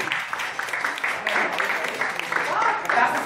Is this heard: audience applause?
yes